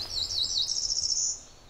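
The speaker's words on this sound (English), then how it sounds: "But birds aren't the only ones making music this morning." A bird sings in a forest: a single high, bright warbling phrase lasting over a second, clear and fairly close against a quiet background.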